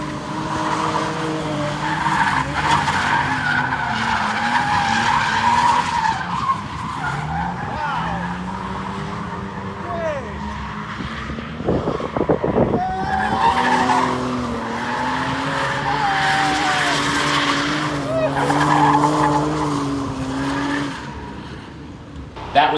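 A Lexus IS300 drift build at a drift event, engine revving hard with long wavering tire squeal and skidding through the corners, loud and sustained, a few faint voices underneath.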